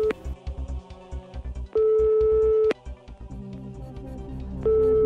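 Telephone tones on a call to a friend during a quiz-show style stage revue: a dialling and ringing sequence of steady pure tones in separate bursts, with the longer tones clear and fairly loud and no talking.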